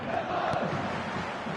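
A match-day stadium crowd roars and chants in a dense, steady wash of voices, loud and continuous with no pauses, with no single voice standing out.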